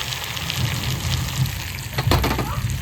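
Spices sauté in a pan with young jackfruit cooked in goat fat, a steady close sizzle with a brief clatter of stirring midway.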